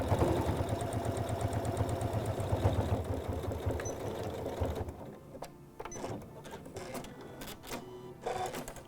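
A sewing machine top-stitches a thick denim pocket edge with a bi-level foot, running in a steady rapid mechanical rhythm up close for about five seconds, then stopping, followed by scattered quieter handling noises.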